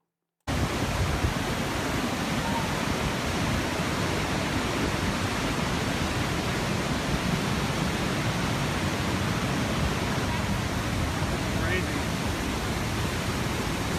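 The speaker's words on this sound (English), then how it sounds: "I've never seen water fall that fast before." A powerful waterfall roars continuously, a dense, even rush of water crashing nearby with no pauses.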